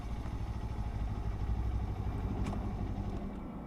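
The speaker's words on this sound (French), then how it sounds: "le moteur thermique s'est coupé, puisque là la moto elle a son start and stop" A Kawasaki Ninja 7 Hybrid motorcycle's combustion engine runs with a steady low, throbbing idle as the bike comes to a stop, its rumble easing slightly near the end as the start-stop system cuts it.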